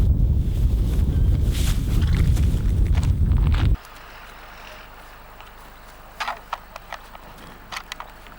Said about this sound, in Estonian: armas hobune.